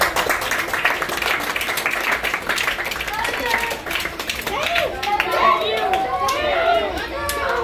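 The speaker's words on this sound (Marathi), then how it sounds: "त्यांच्यासाठी एकदा जोरदार टाळ्या" An audience at a school event for disabled students claps in a dense, sustained burst of applause, with children's chatter and voices mixed in around it.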